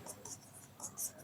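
A pen writes on paper during a maths solution, with soft, close scratching strokes in short bursts over about a second, alone and fairly quiet.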